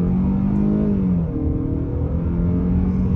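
A 2022 Hyundai Santa Fe XRT engine in sport mode pulls hard under acceleration, a loud steady drone whose pitch rises and shifts as the revs climb, heard from inside the cabin.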